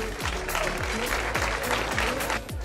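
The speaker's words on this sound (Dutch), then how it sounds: "Maak een geweldig applaus voor de familie van Katwijk" Audience applause for the Katwijk family at a Dutch event, a dense patter of clapping hands throughout, loud and close, with a few whooping voices rising over it.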